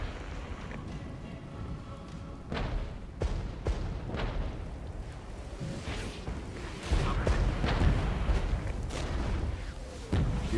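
Anti-tank weapons firing in the strategy game Regiments: a series of sharp booms and cracking reports, some near and some distant, scattered irregularly over a constant low battlefield rumble.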